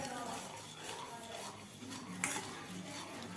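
A spoon scrapes and clinks against a bronze pot as milk payasam is stirred, a soft, steady metallic rubbing with faint tapping, heard close up and quiet.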